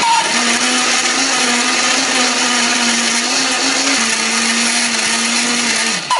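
A kitchen blender grinds garlic, candlenut, pepper and nutmeg with a little water, giving a loud, steady motor whine that runs unbroken for about six seconds before spinning down at the end.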